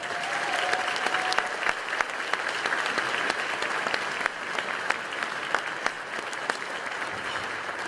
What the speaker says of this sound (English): Let's receive him now as he comes with a warm welcoming of applause.